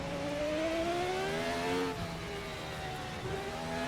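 Formula RSS 1990 V10 racing car in the game Assetto Corsa, its engine note rising steadily through the revs with a brief shift dip midway, loud, continuous and close, with no talking.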